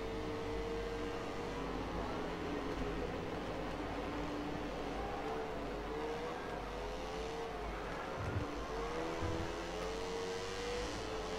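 A MotoGP 17 racing motorcycle, ridden at the Le Mans circuit, holds a steady buzzing engine drone. The pitch rises and falls a little as the bike speeds up, at an even, fairly quiet level throughout.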